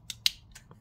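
Small craft scissors from a scrapbooking kit snipping paper, a few quick, close, crisp cuts in an otherwise quiet room.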